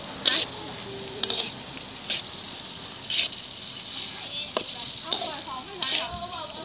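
Mama instant noodles stir-fried in a pan as part of a Lao papaya-salad meal with pickled crab: a steady sizzle with repeated short clinks and scrapes of stirring, while people talk softly in the background.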